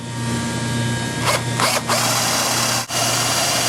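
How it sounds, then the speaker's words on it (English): A power drill whirs steadily through fiberglass while installing a speaker, with a constant mechanical hum, surging briefly a few times as the bit bites and pushes through. "You do not want to put excessive force to have the drill bit plunge through."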